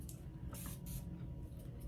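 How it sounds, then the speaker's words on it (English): Quick hissing bursts of facial mist water sprayed onto makeup, about four short sprays close to the microphone, quiet and alone. "So I'm gonna go ahead and spray this with some avian water"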